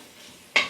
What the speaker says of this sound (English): I'm just going to cook the keema up a bit.